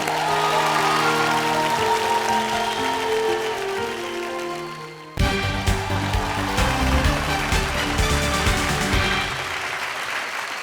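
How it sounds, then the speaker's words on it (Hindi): Studio audience applause on a Hindi TV reality show about children's dance talent, a loud, dense wash of clapping that dips briefly midway and then swells again, with music sounding underneath. "जोरदार तालियां"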